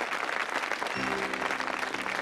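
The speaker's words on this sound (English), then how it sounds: "Give them a round of applause, folks." A game-show studio audience applauds steadily in a dense, continuous wash of clapping, with a brief low musical tone rising underneath partway through.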